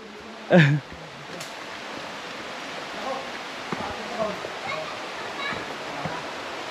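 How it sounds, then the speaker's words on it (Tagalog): A river flows steadily nearby, a constant broad rushing of water heard close and fairly loud throughout, with a brief human voice near the beginning and faint voices later. "naririnig ko na yung agos ng tubig ah"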